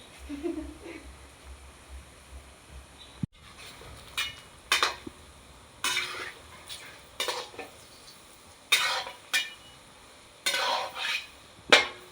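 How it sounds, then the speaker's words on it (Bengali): Ripe banana fritters fry in a pan under a low sizzle, while a utensil scrapes and clinks against the pan in spaced bursts. "এইভাবে আমি সব বড়াগুলো এক এক করে ভেজে দেখাবো"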